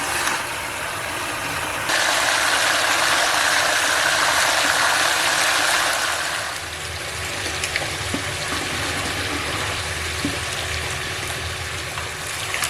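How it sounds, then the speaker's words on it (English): A small water pump runs continuously near a shallow tub during gold concentrate sluicing at an abandoned gold mine, a steady mechanical hum with rushing water hiss and occasional faint clicks. "my pump's running out of a gold pan to keep most of the silt out of it"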